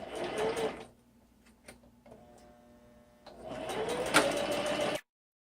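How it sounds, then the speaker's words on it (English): A sewing machine runs along the seam of a denim clutch in two close, steady whirring bursts separated by a short quiet pause. "Now you're going to sew down this side."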